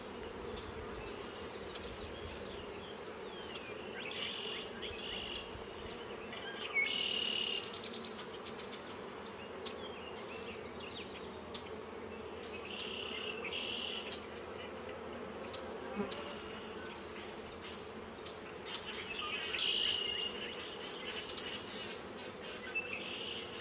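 A dense, steady buzzing of many honeybees fills the clip as bees are shaken from hive frames, loud and close, with a few brief louder swells and faint chirps in the background.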